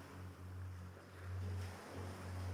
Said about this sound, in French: bercé par les vagues douces